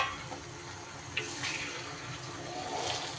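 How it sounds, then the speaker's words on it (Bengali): Water poured into a pan of paneer bhujia, a soft continuous splashing and hiss of liquid meeting the hot pan, fairly quiet and close, lasting a few seconds. "এবার এটার মধ্যে আমি একটু জল দিয়ে দিলাম।"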